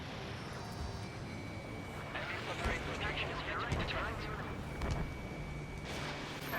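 Missile launches and explosions in the jet combat game Ace Combat 7: Skies Unknown form a rumbling, crackling barrage with repeated bursts under ongoing radio-style voice chatter.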